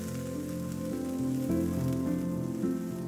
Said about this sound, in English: Green onion and kombu. Saute for a couple of minutes.